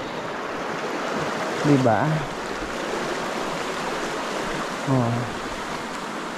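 Continuous rush of a mountain river flowing steadily in the background, with brief spoken exclamations rising over the water twice.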